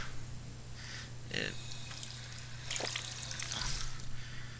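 Faint running water in Fallout 4 survival mode, trickling and splashing quietly in a radiation-filled clean room over a steady low hum, with brief louder gushes near the end.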